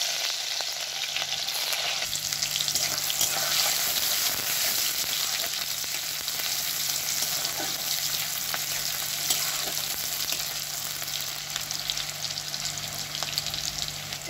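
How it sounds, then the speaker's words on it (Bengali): Chopped onion frying in a wok over sugar melted for colour, a steady dense sizzle that holds throughout at an even level, close up, with faint stirring and no voices. "কুচনো পেঁয়াজ দিয়ে দেবো"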